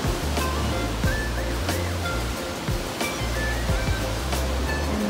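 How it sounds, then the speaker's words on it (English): Big ocean waves surge and crash continuously at Devils Churn, a rocky inlet in Yachats, Oregon, with a loud, steady roar of surf and no talking. "So if you can see those waves out there, they're very big."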